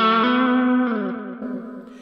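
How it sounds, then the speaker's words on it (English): A few overdriven electric guitar notes through a tube screamer pedal on a Kemper amp, ringing and slowly decaying, close and alone. "Switching on the tube screamer."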